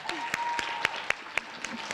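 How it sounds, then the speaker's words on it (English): Light, sparse clapping follows the 6th grade Ready Writing participants at a middle school district literacy competition. Distinct individual claps ring out at an uneven rhythm, fairly quiet and spread through two seconds. "Please join me in a round of applause for our 6th grade Ready Writing participants."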